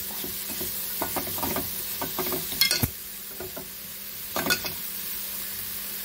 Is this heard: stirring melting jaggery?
yes